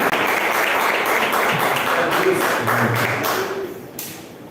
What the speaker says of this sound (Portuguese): Um grande aplauso.